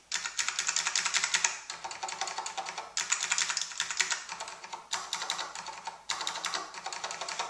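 Fast, clattering keystrokes on a Matias Tactile Pro 3 keyboard with clicky Alps switches, close and crisp, coming in dense bursts separated by short pauses.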